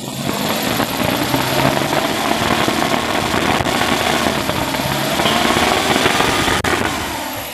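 A 2002 Suzuki Realvan DRV engine runs steadily at around 3000 to 4000 rpm, giving a loud, continuous, rough mechanical roar without breaks or stumbles.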